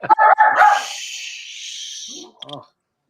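A dog barks loudly and close in a short burst at the start, followed by a long high whine and a brief yip, with people talking nearby.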